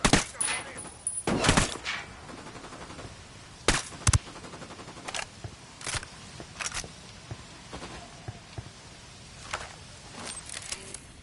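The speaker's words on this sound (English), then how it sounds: "Opening fire on these fuckers." Gunfire in the shooter Ghost Recon Wildlands, scattered loud bursts and single shots spread across the stretch with quieter gaps between, some brief voice chatter underneath.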